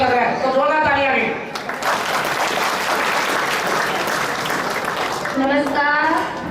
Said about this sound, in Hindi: तो जोरदार तालियां भी।